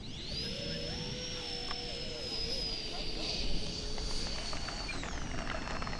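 An E-Flite A-10 Thunderbolt model jet with twin 64mm electric ducted fans taxis on grass. It gives a steady high-pitched fan whine that rises and falls with throttle changes, fairly close and continuous, over low rustling noise.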